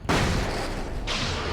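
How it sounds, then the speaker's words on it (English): A flashbang goes off in the video game Alan Wake's American Nightmare as a sudden muffled blast, followed by a sustained rumbling roar that flares again near the end of the short burst, with no speech. "You take a fucking flashbang."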